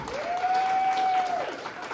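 Wedding guests at a reception in Chișinău clap in a steady, moderate round of applause while a tone or voice carries over the hall noise.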